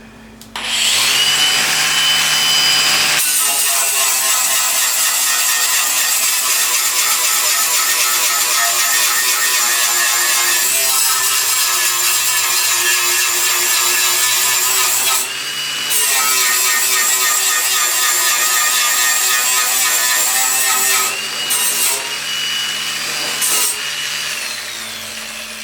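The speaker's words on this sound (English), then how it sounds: "We'll grab our grinder and we'll go to town on it again." Angle grinder grinding down welds on the headlight support of a 1965 Ford Falcon during rust repair, a loud continuous high whine that runs steadily with brief dips and restarts, alone with no talk.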